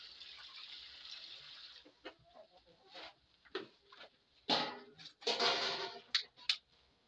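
Backyard chickens clucking and scratching close by, soft short clucks and pecking patter coming in irregular bursts against an otherwise quiet background.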